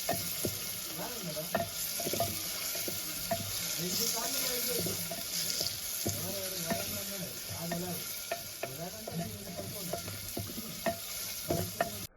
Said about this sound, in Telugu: ఓ రెమ్మ వేసుకుంటున్నాం కరేపాకు ఇప్పుడు బాగా కలపాలి